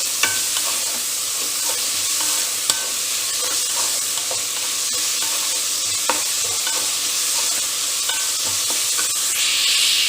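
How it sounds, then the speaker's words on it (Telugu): Onion pieces fry and sizzle steadily in a hot pan for veg Manchuria gravy, with occasional stirring scrapes over a continuous loud hiss and no voices. "ఇప్పుడు దీంట్లో నేను ముందుగా కట్ చేసి పెట్టుకున్న ఆనియన్ పీసెస్ అయితే వేస్తాను"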